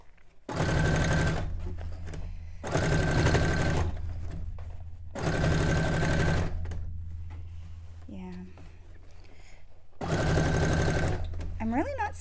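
A sewing machine runs in four short bursts, each a couple of seconds long, stitching a three-step zigzag on fabric for a cone-shaped cape, loud and close, with brief pauses and some quiet speech between runs.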